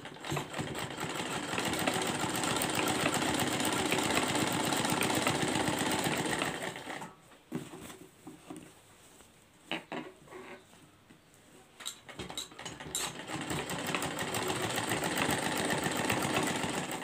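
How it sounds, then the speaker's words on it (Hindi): A sewing machine runs fast and steady while stitching along the edge of a kurti neckline, its dense whirring patter stopping briefly midway for a few quiet handling sounds before starting up again, close and loud with no voices. "इसके किनारी पर एक सिलाई से लगाएंगे"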